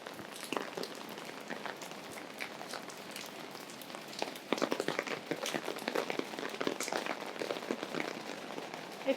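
Rain patters steadily on a downtown Singapore street and slippery tiles, a dense, faint texture of drops that grows busier partway through, with no talk.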